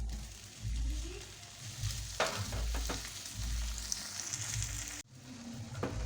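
Tomatoes frying in a pan with lentils and lightly sautéed bitter melon, a steady close sizzle with occasional stirring clinks and scrapes.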